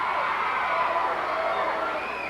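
Wrestling arena crowd at a 1985 Portland pro wrestling match, a steady broadband roar of cheering throughout, fairly loud and continuous with no clear break.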